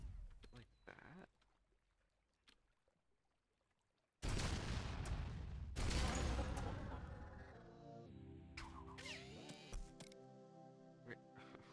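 Gunfire in the video game Layer 8 FRAUD: a loud burst of dense, rapid shots starts abruptly after a quiet stretch, then gives way to mechanical clanking. Faint talk is heard at the start.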